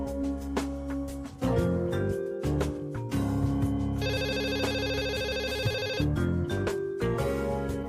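A telephone ringtone plays steadily and loudly over a busy musical backdrop, its tonal pattern repeating for several seconds without pause.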